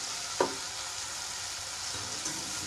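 Chicken frying in a pan gives a steady, fairly faint broadband sizzle, with a brief clatter near the start and a softer knock later, and no voices.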